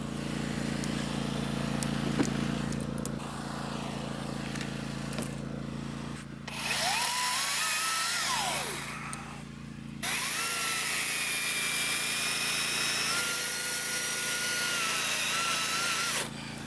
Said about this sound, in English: The old DeWalt's cutting nice though